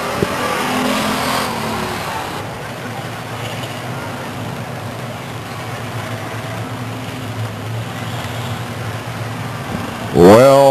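Race cars circle the track at Stockton 99 Speedway, their engines a steady mid-distance roar that rises and falls, with a brief louder surge near the end and a commentator talking over them.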